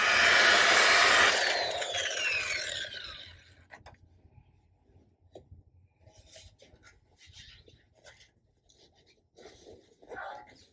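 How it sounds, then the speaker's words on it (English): A machine polisher works over clear coat paint with a loud, close whirring for a few seconds, then cuts out, leaving quieter scattered rubbing and handling noises. "flattening that clear and then machine polishing it really brings up a high show quality shine"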